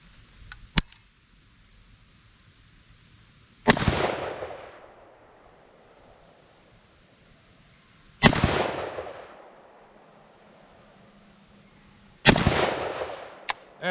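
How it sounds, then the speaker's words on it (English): Three single gunshots, spaced several seconds apart, fired while sighting in a Riton Optics X3 Tactix PRD red dot optic; each is a loud, sharp crack with a lingering outdoor decay, with a faint earlier click before the first shot. "Let's shoot this thing, get some rounds through it"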